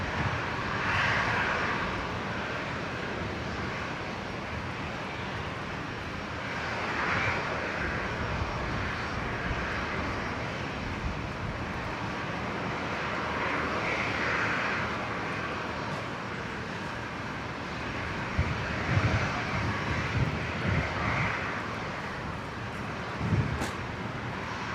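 An airliner's engines roar steadily on takeoff from runway 01 right at Brisbane International Airport, a distant sustained rumble and whoosh with slight swells and no voices.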